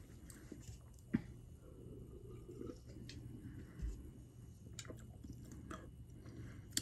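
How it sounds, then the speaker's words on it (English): Someone crunching and chewing dusty chalk, soft close-mouthed bites and squishy chewing with a few sharper crunches, quiet and near, no talking. "Chalk crunch, you did it again"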